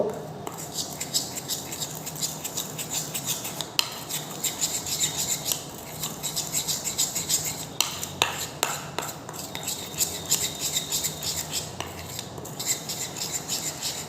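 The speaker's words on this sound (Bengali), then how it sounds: "এটাতে আমি একটু ভালো করে গুলিয়ে নেব" Multani mitti face pack mixed with water in a bowl, with steady scraping and clinking as it is stirred, close and continuous, plus faint background noise.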